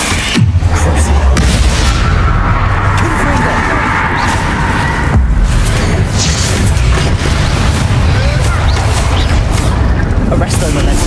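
Bombarda blasting spell going off in the game Hogwarts Legacy: a loud, deep boom with a low rumbling tail, followed later by a second heavy burst amid dense, steady combat noise.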